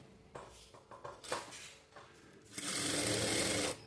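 Blouse fabric is handled with a few light clatters, then a sewing machine starts and stitches in one steady, close, whirring burst lasting about a second before stopping.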